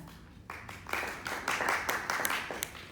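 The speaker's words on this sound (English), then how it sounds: "give her a clap" Audience applause at a creative arts session, scattered claps starting thin and building into several seconds of moderate clapping in a room.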